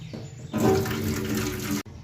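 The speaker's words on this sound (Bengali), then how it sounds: "চল ফার্স্ট আগে জামটা ধুয়ে নিই। কলটা ছাড়" Water gushes from a tap for washing jam fruit, a short steady stream heard up close that starts abruptly, runs for about a second, then cuts off.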